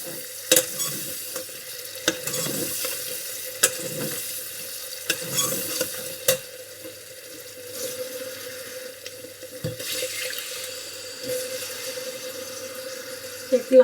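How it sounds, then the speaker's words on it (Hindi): Water goes into a frying pan of fried onions for kofta pulao, setting off a steady, close sizzle, while a spoon stirs and scrapes against the pan in sharp, irregular clicks. "यहाँ ये भुजिया मैं अब इसके अंदर डालूंगी पानी"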